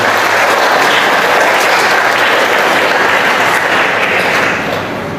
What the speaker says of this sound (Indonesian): Inilah Dewan Parokial kita yang baru yang beri tepuk tangan untuk mereka.